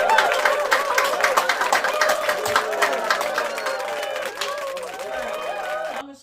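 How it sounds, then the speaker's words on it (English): An audience claps for two performing artists at an interview event, a dense sustained round of applause with cheering and crowd chatter mixed in, fading out abruptly at the end. "So let's give them a round of applause."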